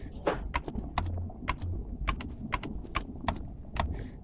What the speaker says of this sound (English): Here, I'll try and type it in here.